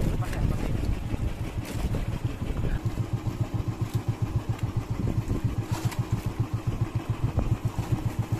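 The engine of a fishing boat at sea at night throbs in a steady rapid chug, with wind and water noise and voices talking over it.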